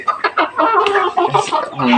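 Three older hens cluck in short, choppy bursts close by, a quick run of nervous fowl calls packed into two seconds.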